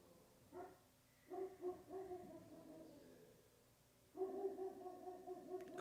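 A dog barks and yowls in drawn-out, howl-like bursts, faint and somewhat distant, with a quiet pause between the groups of calls.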